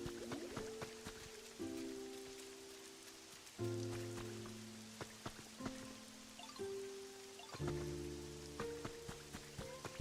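Rain falls in the video game Pokémon Pokopia, a soft, steady patter running beneath layered game music and scattered chimes.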